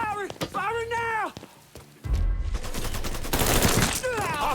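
Gunfight in the video game Mafia 3, with bursts of rapid automatic gunfire and loud shots crackling up close, broken by short gaps as characters shout over the shooting.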